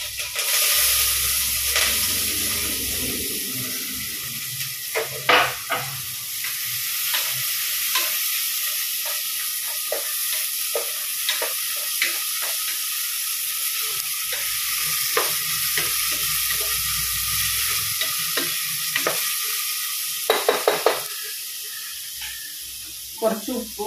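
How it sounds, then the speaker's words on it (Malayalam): Sliced onions with green chilies sizzle in hot oil in a pan, a steady close hiss broken by scraping stirs and a few clinks, with a voice talking over the frying. "അതിന്റെ ഒരു മൂത്ത നല്ല സ്മെല്ല് വരുമ്പോൾ നമുക്ക് സബോള ഇട്ട് കൊടുക്കാം"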